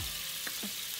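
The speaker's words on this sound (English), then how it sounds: "So you're gonna put in that butter. Ooh! You hear that sizzle?" Butter sizzling in a hot frying pan, a steady close hiss filling the short moment on its own.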